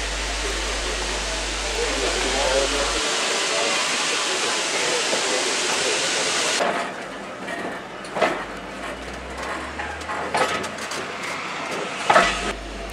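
A Severn Valley Railway train departs the platform with a loud, sustained hissing rush for several seconds, then drops abruptly to a quieter rumble broken by scattered knocks and clanks.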